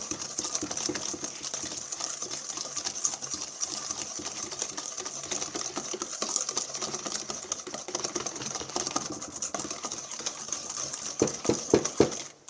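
Donut batter being mixed by hand, a steady rapid whirring and clicking of beating that runs for the whole stretch, fairly quiet and close, with a few sharper knocks near the end.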